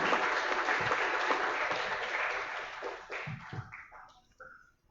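Audience applause welcoming a guest on stage at a film festival, a broad wash of clapping that thins out toward the end into a few scattered claps and trailing sounds.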